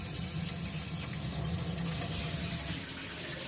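A Kohler Katun faucet runs at minimum flow, giving a steady, close splashing stream into a sink that continues evenly throughout without any talk.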